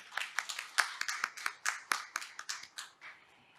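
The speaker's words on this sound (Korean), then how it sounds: "여러분 원장님께 다시 한번 큰 박수 부탁드립니다" An audience at a forum gives a short round of applause after a speech, with sharp, distinct claps that are fairly close and thin out toward the end.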